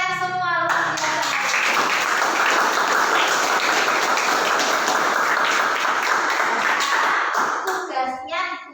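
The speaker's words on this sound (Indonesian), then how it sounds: "Tepuk tangan untuk kalian semua." Classroom applause for students, a dense burst of clapping from a room of children lasting several seconds, with brief speech before and after it.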